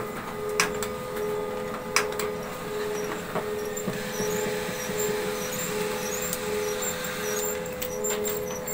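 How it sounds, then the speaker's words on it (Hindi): A laser printer printing a test page while showing a bad-print fault: a steady mechanical whir and hum with occasional clicks and squeaks from the paper feed, heard close and alone without voices. "तो मैं यहाँ पे डेमो प्रिंट दे रहा हूँ"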